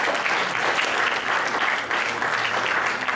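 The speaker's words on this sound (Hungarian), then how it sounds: "a gyerekek most a szülőket tapsoljuk meg" An audience applauds the parents at a children's art exam exhibition, with steady, dense clapping throughout at full strength and no voices.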